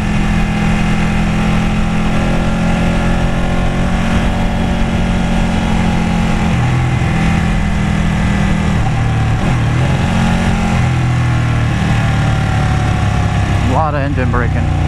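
A Ducati Panigale 899 motorcycle engine braking on a test ride, a loud continuous mechanical drone with steady low harmonics and heavy rushing wind noise throughout, shifting slightly in pitch near the end.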